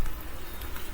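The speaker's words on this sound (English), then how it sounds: "So we got rain. Came in pretty heavy last night, and it's still coming down." Heavy rain comes down steadily in a continuous, dense broadband patter with no speech over it, close and fairly loud throughout the brief moment.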